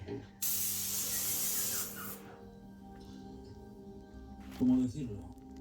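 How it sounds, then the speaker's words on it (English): An Erbauer EAPS600 airless paint sprayer gives a loud hissing spray that bursts on for about a second and a half, then cuts off, followed by faint background sounds and a brief clatter. "I'm just going to start spraying this area here."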